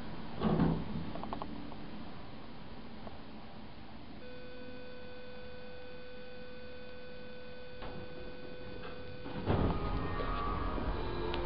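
Millar hydraulic elevator doors at a Macy's slide slowly shut over a steady mechanical hum and whine, with a clunk at the start and another thud as they finish.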